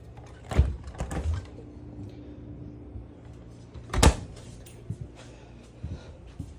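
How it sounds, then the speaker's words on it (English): Push-button handles on the doors of a 2021 Hemisphere 4112T RV refrigerator, heard as a few distinct close clunks and thuds with quiet rattles between them. "So you have to push the button in order to open the doors."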